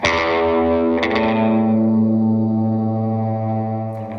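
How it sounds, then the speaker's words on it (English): A loud, heavily distorted high-gain electric guitar chord through a Vox amp with top boost rings out and sustains, fading slowly over a few seconds. "you can get like the classic kind of like high gain top boost Vox sounds"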